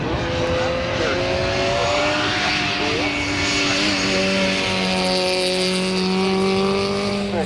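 A race car climbs the Collingrove hill at the 1994 Australian Hillclimb Championships. Its engine howls loudly and steadily as the revs rise through the gears, with the pitch climbing and dropping and no pause.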